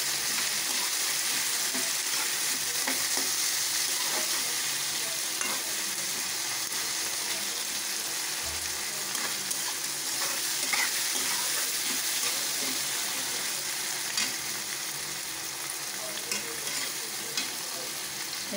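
Onion and tomato cook in a pan for a potato, cauliflower and carrot mixed vegetable dish, giving a loud, dense, continuous sizzle with fine crackle that holds steady throughout.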